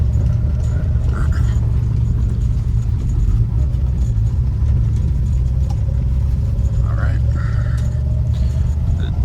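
A 1968 Ford Mustang Coupe without power steering drives along a bumpy road on a warm day, its engine a steady, loud low rumble from inside the cabin for the whole stretch, with faint road noise and no talking.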